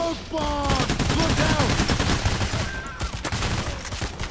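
Dense, rapid gunfire from a bank-heist shootout in Payday: The Heist, with overlapping bursts of automatic fire and single shots packed tightly together, loud and continuous throughout with brief tonal cues sliding underneath.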